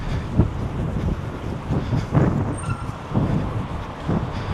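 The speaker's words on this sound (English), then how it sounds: "The wind's blowing, it's getting greyer." Gusty wind buffets the microphone on a city centre street in Glasgow, a low rumbling roar that swells and fades in uneven pulses, close and fairly loud, with no talk over it.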